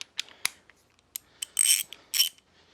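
A 1/2-inch ratchet with an extension working on the rear axle of a 2007-or-later Harley-Davidson Sportster motorcycle gives a few sharp, close metallic clicks and two short bursts of rapid ratcheting, with no talk.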